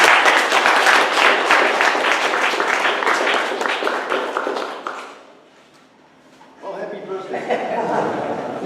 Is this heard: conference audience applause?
yes